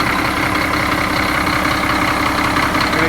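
A truck engine idling after a cold start in snowy conditions, a steady, loud, close rumble with an even mechanical chatter throughout.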